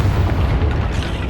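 A Confringo explosion spell in the video game Hogwarts Legacy lands with a short, loud, deep boom and a rumbling low burst that fills the brief moment.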